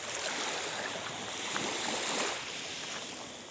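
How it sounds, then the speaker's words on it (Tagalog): Strong sea waves washing steadily onto a shore at high tide, a loud continuous roar and hiss of surf that swells and eases slightly, with no voices. "Napakalakas ng alon."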